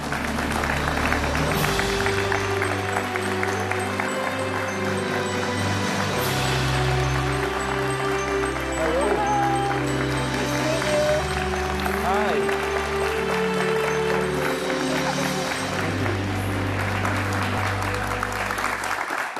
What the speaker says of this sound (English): give a warm welcome, a big round of applause to our guest today, Mr. Derek Bucock.